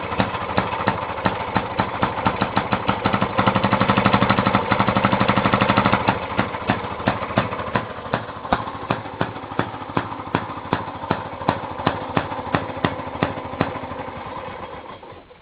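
Century-old 1917 Maytag Model 43 single-cylinder engine running alone, a rapid, steady train of sharp popping firing strokes at close range that briefly quickens and loudens before easing to a slightly slower, even beat.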